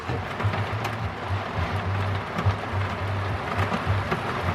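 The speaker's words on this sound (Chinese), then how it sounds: "哇塞，这一会儿下这么大的雨啊！" Heavy rain pouring down in a sudden downpour, a dense, steady hiss with a low rumbling undertone and occasional louder drops, close and continuous, with no talk.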